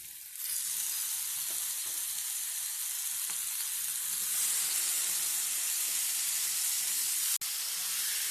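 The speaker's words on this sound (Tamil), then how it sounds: "இதில் க்ளீன் பண்ணி வச்சுருக்க சிக்கன் பீசஸ் 1/2 கிலோ இதில் சேர்த்து நல்லா வதக்கி விட்டுறலாம்." Half a kilo of cleaned chicken pieces sautéing with masala in a pan, giving a continuous steady sizzle and hiss with a brief sharp knock near the end, no talking.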